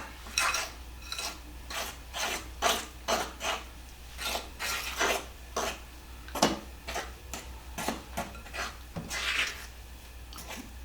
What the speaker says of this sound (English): I'll use my fork now. Okay. Get this all stirred up.